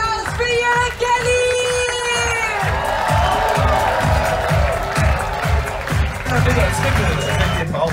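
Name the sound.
applause and cheering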